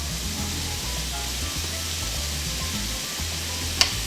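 Ground turkey sizzling steadily in a hot pan for tostadas, a continuous broadband hiss with a low bubbling rumble underneath and one brief sharp pop near the end, close and moderately loud.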